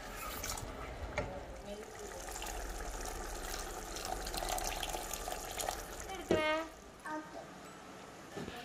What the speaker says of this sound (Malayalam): പിന്നെ ആവശ്യത്തിനുള്ള വെള്ളം കുറച്ചും കൂടി ആഡ് ചെയ്ത് കൊടുക്കുക